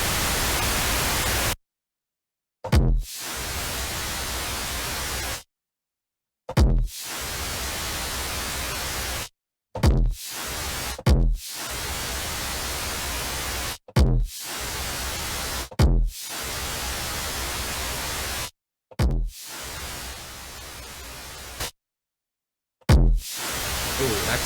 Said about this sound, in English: This is just the Bitwig Ghost kit, one of my favorite kits in Bitwig. Absolutely love throwing really weird distortion stuff on it, like metallurgy.